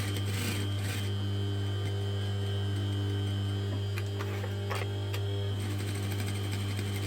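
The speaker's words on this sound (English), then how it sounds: "So we're going to sew all around now" Sewing machine stitching around a cell phone pouch at a quarter-inch seam allowance with medium stitch length, a steady close motor hum and rapid needle ticking running throughout.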